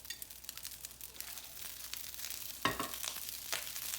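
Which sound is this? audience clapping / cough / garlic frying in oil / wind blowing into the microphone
garlic frying in oil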